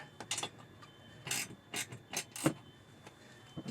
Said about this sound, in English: You just got to get in there with your hex wrench and lock that bolt in.